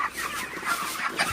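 Broiler chickens cluck in a farm shed during hot midday weather, a steady close chorus of overlapping clucks and calls with no talk.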